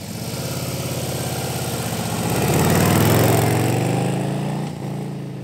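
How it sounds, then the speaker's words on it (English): A 2022 Harley-Davidson Low Rider ST V-twin rumbles steadily through its exhaust pipes, rising briefly in a gentle rev before settling back toward idle, close and loud with no voices. "it feels like it has the potential to sound great, but it just doesn't with these pipes"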